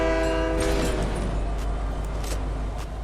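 A train horn in a video game sounds loud and sustained for about the first second, then gives way to a steady, heavy rumble of rolling railway cars with a few short bursts of noise on top.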